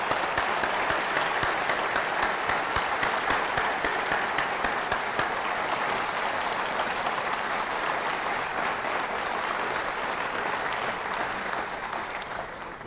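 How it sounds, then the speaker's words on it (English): Sustained applause from an audience at a Veterans Day program after a university chamber choir and concert band performance, dense steady clapping that fades slightly toward the end. "deserve another round of applause for that wonderful beginning"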